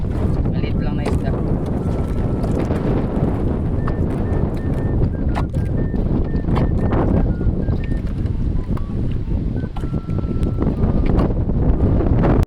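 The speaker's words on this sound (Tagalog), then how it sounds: "Sa sobrang lakas nga pala ng hangin" Strong wind buffeting the microphone aboard a small fishing boat at sea, steady roaring gusts with engine drone and splashing, and voices faintly talking underneath.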